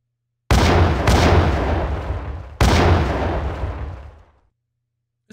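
Two loud grenade blasts in GTA Chinatown Wars, the first bursting then rumbling away, the second hitting about two seconds later and decaying into silence.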